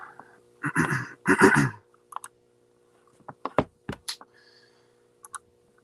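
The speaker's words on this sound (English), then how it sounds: "This is the first Magic Keyboard they offered" An old first-generation Apple Magic Keyboard is typed on in two short, dense bursts of clicking, followed by scattered single keystrokes, close and fairly loud against a quiet background.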